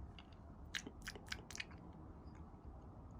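Crunchy seeds of Selenicereus validus cactus fruit crackle as someone bites and chews, a quick cluster of close, quiet crunches followed by softer chewing.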